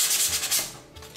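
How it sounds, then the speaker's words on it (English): A brief burst of close, steady abrasive rubbing as stone corners are sanded, like sandpaper worked over a hard edge, with no talking. "just keep on sanding them around, make the corners nice, clean it up."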